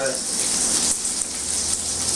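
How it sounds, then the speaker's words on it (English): Steady sizzling of bologna frying in a hot pan, a dense crackling hiss that continues without a break for a couple of seconds. "my bologna's are frying good there"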